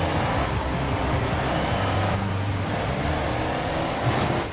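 A truck drives in the racing game Forza Horizon 4, its engine giving a steady, loud low rumble with slight shifts in pitch throughout, no talking.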